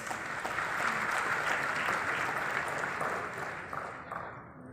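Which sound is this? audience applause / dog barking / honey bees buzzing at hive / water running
audience applause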